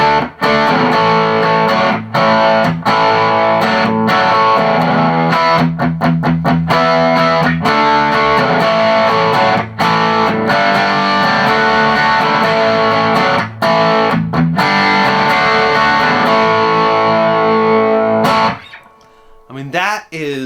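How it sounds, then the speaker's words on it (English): Electric guitar driven through a JHS 3 Series Screamer pedal in distortion mode into a Fender Tone Master Twin amp, loud sustained chords with sharp strummed attacks and rhythmic chops, ringing out briefly before stopping at the end. "that is, even at a lower setting that I have it on right now, that is essentially a distortion pedal"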